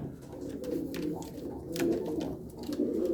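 White Adana pigeons coo in soft, low, repeated calls close by, with faint rustling and occasional clicks around them.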